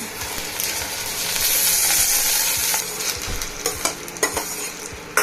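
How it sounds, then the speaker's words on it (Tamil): Okra sizzles loudly as it fries in a pan with a garlic paste. The hiss swells to a peak midway, then eases, with a few sharp clinks and stirring scrapes near the end. No talking. "வெண்டைக்காவை இதில் போட்டுருங்க"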